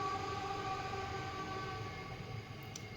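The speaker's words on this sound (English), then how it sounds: "Sorry about the train." A train rumbles past close by, a steady broadband roar with low rolling rattle and faint high tonal whine held for about three seconds, no voices.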